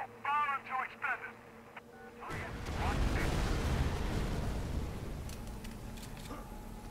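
Artillery fire support in the video game Prototype starts as a deep, rumbling barrage of blasts that rolls on for several seconds, after a brief radio-filtered voice speaks.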